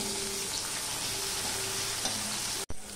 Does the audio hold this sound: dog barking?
no